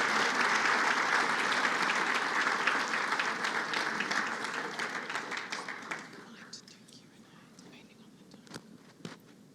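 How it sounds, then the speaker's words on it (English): Audience applause for a government minister at an investment summit, a dense wash of clapping from a large room that holds steady, then thins out over the last few seconds into scattered individual claps. "Round of applause for the Minister"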